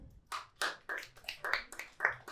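Scattered handclaps from a stand-up comedy audience, about eight sharp, separate claps in an uneven, sparse rhythm, fairly close and moderately loud, with no talking over them.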